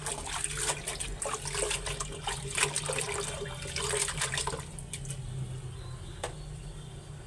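Potatoes washed little by little in water in a home kitchen: continuous soft splashing and trickling with faint clinks, fairly quiet, over a low steady hum and a high insect-like whine.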